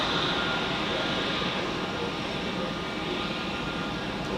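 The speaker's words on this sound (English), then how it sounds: "Here we have a Swiss A320 Neo." A Swiss Airbus A320neo lands at Zurich Airport with a loud, continuous broadband jet roar that holds steady and then eases slightly toward the end.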